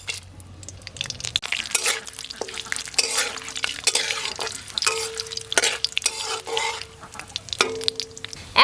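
Bay leaves and garam masala fry in hot ghee in a wok, a loud sizzle broken by repeated sharp scrapes and clacks of a spatula stirring the spices.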